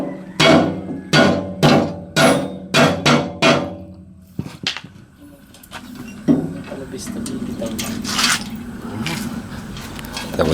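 About eight sharp, evenly spaced blows of a rubber mallet striking during shredder maintenance, loud and close, followed by clattering handling noises and a low engine hum with voices.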